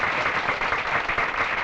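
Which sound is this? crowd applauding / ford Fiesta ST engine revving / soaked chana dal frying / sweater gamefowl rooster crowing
crowd applauding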